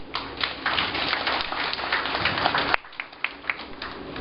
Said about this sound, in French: Je voudrais vous demander une fois de plus de les applaudir.